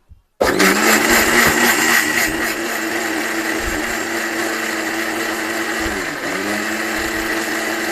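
A 1200-watt blender grinds chilies into a paste. After a brief quiet start, it kicks into a loud, steady high whir with a slight pitch dip near the end.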